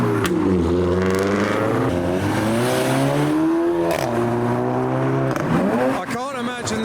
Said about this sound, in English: I can't imagine this E46 has much of a back box.